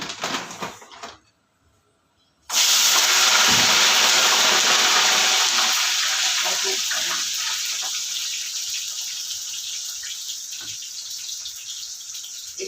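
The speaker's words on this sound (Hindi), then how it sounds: "यहाँ पे अच्छा खासा हमारा ऑयल गर्म हो गया है, डाल देते हैं" Food dropped into hot oil in a home kitchen bursts into a loud, sudden sizzling hiss after a moment of near silence, then keeps crackling steadily and slowly softens, with no talking.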